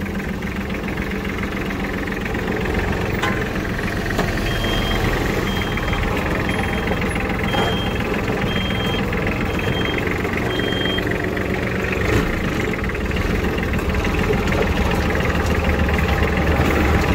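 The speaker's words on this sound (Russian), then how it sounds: "все едет без проблем, управлять трактором одно удовольствие" Iseki Sial 243 Japanese mini tractor engine running at a steady, even drone during a short test drive, heard close and continuous with no talking.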